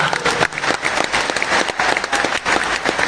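Audience applause at a large religious gathering, a loud, dense burst of many hands clapping steadily from start to finish, close and continuous.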